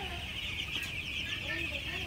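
Broiler chicks on their ninth day in a poultry shed keep up a dense, continuous chorus of high chirps and peeps, close and steady with no pauses.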